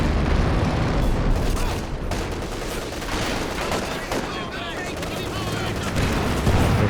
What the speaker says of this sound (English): With artillery being dropped down.